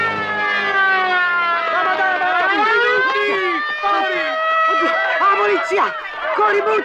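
A wailing police siren rises and falls steadily for several seconds, loud and continuous, while excited voices and crowd commotion from an Italian comedy film scene build beneath it.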